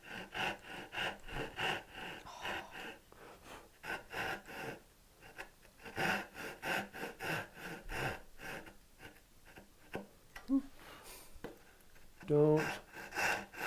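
A hand saw cutting shallow kerfs in wood for mitered full-blind dovetails makes rhythmic back-and-forth rasping strokes, close but fairly soft, with short pauses and a brief spoken word.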